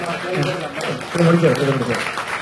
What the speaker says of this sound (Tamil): கைதட்டுக்கடா